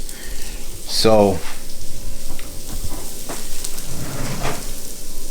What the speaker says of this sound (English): I'm gonna melt the butter down and the garlic and the onions and all of that.